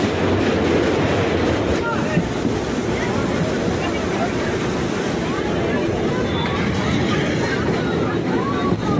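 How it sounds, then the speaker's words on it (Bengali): A continuous low rumble and rattling clatter of a train running steadily across the Farakka Bridge, with a faint voice now and then beneath the noise. "তখনই আমাদের ট্রেন ফারাক্কা ব্রিজে উঠে পড়ল"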